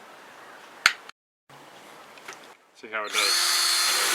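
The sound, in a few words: DeWalt DC759 drill stripping paint from Datsun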